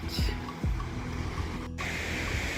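Ocean waves wash onto a white sandy beach in Newfoundland beside a campsite, a steady broad roar with surges rolling in, fairly close and constant throughout.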